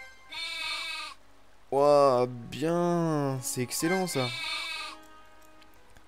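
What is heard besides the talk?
sheep bleating in RPG Maker game Lullabia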